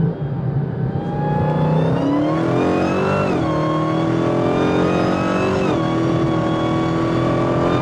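Supercharged Chrysler 300 Redeye engine screaming from inside the closed cabin on a test drive, a loud sustained high-pitched whine with rising and falling harmonics as the car revs through gear changes.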